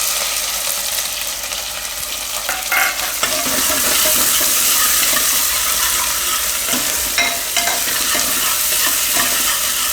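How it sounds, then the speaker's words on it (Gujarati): Onion fries in hot oil while being stirred, a loud continuous sizzle with scraping stirs breaking through now and then, close up and without talk. "થોડીક વાર આને ફેરવી તેલમાં અને ડુંગળી નાખી દઈશું."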